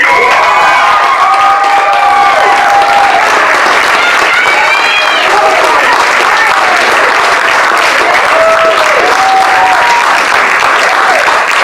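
Loud, sustained applause and cheering from an audience at a student poetry recitation competition as the first-place winner is announced, with whoops and shouts rising above dense clapping throughout.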